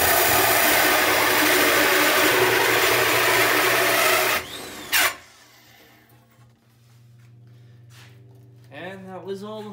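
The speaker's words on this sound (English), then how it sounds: "And that was all the holes drilled." A hot power drill bores holes in wood while building a custom tegu enclosure, a loud whirring grind for about four seconds that cuts off, followed by quieter handling noise and a person talking.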